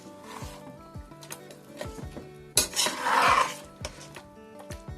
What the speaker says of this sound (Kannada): ಈಗ ಮಿಕ್ಸ್ ಮಾಡ್ತೀನಿ